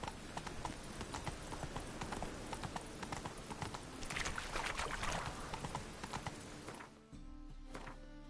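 Roach the horse from The Witcher 3 gallops with quick rhythmic hoof clip-clops over game ambience, close and steady, before the hoofbeats cut out near the end into a low hum.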